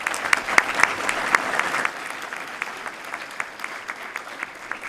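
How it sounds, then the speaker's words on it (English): At a school's distinguished citizens recognition event, an audience applauds the sponsors with a burst of crisp clapping that quickly thins out into scattered, sparse claps, fairly quiet and distant. "Let's give them a nice round of applause."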